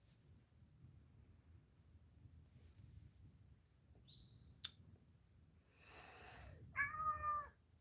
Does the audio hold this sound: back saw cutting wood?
no